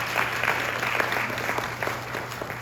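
An audience at a school graduation ceremony claps in a steady, moderately loud burst of applause lasting a few seconds, with a constant low hum underneath.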